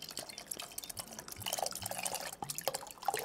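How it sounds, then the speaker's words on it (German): Water is poured onto a honey mixture for a cold infusion, giving irregular splashing and dripping sounds close by, uneven bursts of liquid trickling into a container. "gieße ich jetzt mit Wasser auf"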